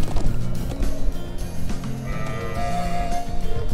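Sheep bleat in the video game The Legend of Heroes: Trails of Cold Steel, a few short wavering calls close by, layered over game music.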